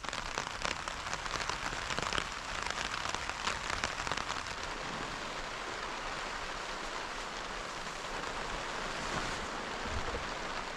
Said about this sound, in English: it's obviously raining outside